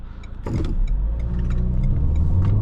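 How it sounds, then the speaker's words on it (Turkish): Renault Megane 4 with a 1.5 dCi diesel engine, in Sport mode, pulling away hard from a standstill on a flat road, its engine note rising and swelling steadily as heard from inside the cabin, with no talking. "Bir 0-100 yapalım bakalım ne olacak burada"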